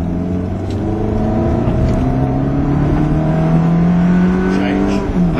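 A Ferrari engine pulls hard under power on a driving course, a loud sustained roar climbing steadily in pitch, close and continuous without a break.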